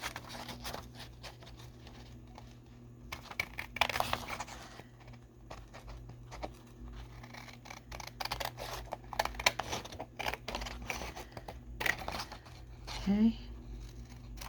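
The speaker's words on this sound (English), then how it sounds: "all we have to do is trim it off" Scissors trimming a vintage book page to make a junk journal pocket: intermittent close snips and papery rustles, with a person talking over parts of it.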